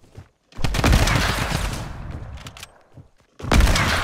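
Fortnite gunfire from a drum gun crackles in a loud, close burst of rapid shots lasting about three seconds, followed by a short silence and then another sharp volley.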